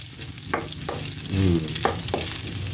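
Onion sautés in a pan with a steady close sizzle and frying hiss, broken by a few soft scrapes and stirs of a utensil, with no voices.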